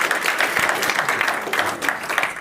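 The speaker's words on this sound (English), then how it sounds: "And a warm applause for Sander." An audience at a data conference claps warmly after a talk, a dense, continuous patter of many hands filling the room at moderate loudness.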